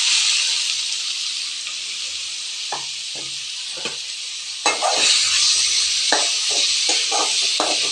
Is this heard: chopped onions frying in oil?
yes